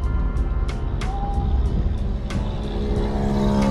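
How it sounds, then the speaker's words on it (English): Road traffic in Branson, Missouri, heard from inside a driving car: a steady engine and tire rumble, several sharp knocks and clicks, and a high tone sweeping past as vehicles go by. "Here comes the traffic."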